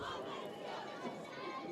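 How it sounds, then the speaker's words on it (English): A crowd cheers at a Woodland Cougars versus Regent Prep Rams semifinal game in Catoosa, a sustained, slightly distant roar of many voices without a break. "Woodland brought a nice crowd."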